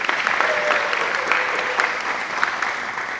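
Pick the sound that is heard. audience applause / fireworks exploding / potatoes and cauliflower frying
audience applause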